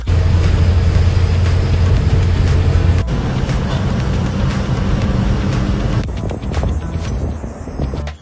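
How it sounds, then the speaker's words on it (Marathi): A travel vehicle pulls up on a road, its engine a loud, steady rumble that holds throughout, shifting slightly as it arrives and idles, with a few clunks near the end. "फायनली ना आपली गाडी आली."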